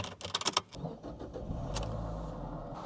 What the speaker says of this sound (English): So let's jump in the car, get it started